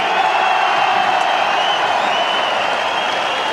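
Football fans at the 1995 Scottish Junior Cup Final between Camelon and Whitburn cheer and applaud, a dense, steady roar of crowd noise filling the stadium throughout.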